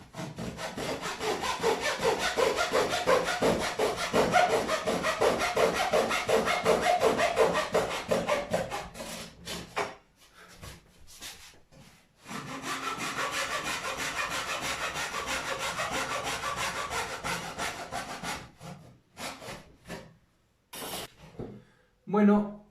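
A soft board is cut with a hand saw, held in a clamp, giving steady rhythmic back-and-forth rasping strokes, close and loud, that pause and then resume for another long run before ending in scattered short strokes.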